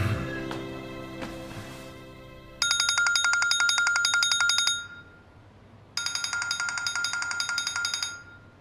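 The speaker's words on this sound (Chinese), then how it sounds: "怎么不接电话呀？" A telephone rings unanswered in a quiet room: two long electronic ringtone bursts, each about two seconds, separated by a short pause, clear and close, after some faint earlier tones, with no voices.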